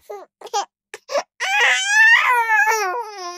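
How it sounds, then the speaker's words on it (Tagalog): Baby crying that swells from short broken sobs into a sustained, louder wail, close and alone with no talk. "narinig ulit ang iyakan. Ngunit ngayon, mas malakas at parang papalapit."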